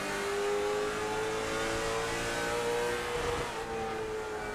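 Late model stock cars in a racing video game, engines droning steadily at close range with a sustained mid-pitched whine and faint rumble from braking over the rumble strips throughout.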